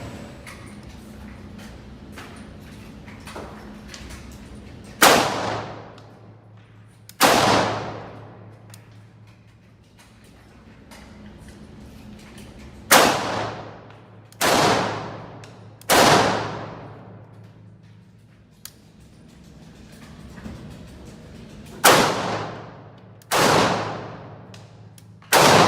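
Kalashnikov AK-47 or AK-74 rifle fired on an outdoor range near Moscow: about eight loud single shots spaced a few seconds apart, each cracking sharply and ringing out into a short decaying echo over a low background hum.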